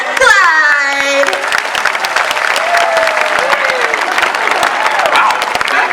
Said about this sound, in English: How about a big round of applause for my friend Clyde?